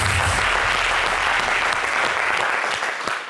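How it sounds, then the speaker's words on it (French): An audience applauds the group Kalizam at a live show, loud close dense clapping that holds steady, then thins slightly at the end. "J'aimerais qu'on les applaudisse."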